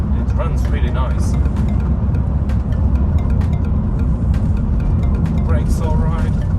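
A Nissan Qashqai J10 hums steadily while driving, a continuous low road and engine drone inside the cabin with someone talking over it.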